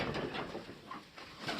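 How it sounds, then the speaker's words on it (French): A Strasser pigeon coos close by in soft, repeated low calls, with a faint background rustle. "ça reste quand même un beau pigeon, le Strasser"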